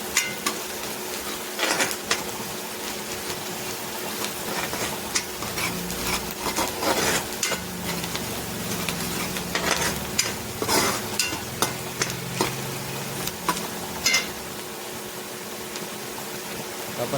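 Onion frying with turmeric in a pan, an even background sizzle broken by repeated scraping stirs and metallic clinks of a spoon against the vessel over a long stretch, no talking.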